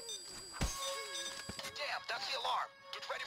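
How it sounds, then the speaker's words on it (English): A jewelry store alarm in the Payday 2 heist game rings as a steady electronic tone running throughout, while several voices shout and talk over it. "Damn, that's the alarm!"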